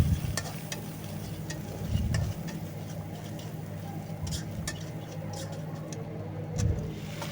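Turmeric, chili powder and other spices fry with onion, chili and garlic in oil while being stirred, a soft continuous sizzle with occasional scraping strokes and a low rumble underneath.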